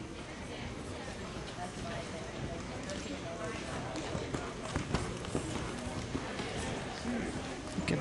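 Horses cantering around an indoor show arena at an IEA riding event, their hoofbeats a steady soft clip-clop under constant crowd and arena noise, with people talking throughout.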